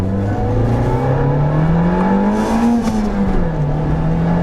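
A Nissan Pulsar GTI-R's SR20 four-cylinder, about 227 horsepower with all-wheel drive, pulls hard and close through the gears, its loud engine note climbing steadily with a brief dip at a shift, no talking over it.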